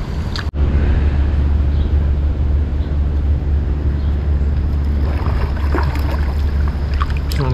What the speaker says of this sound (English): That's the spillway here.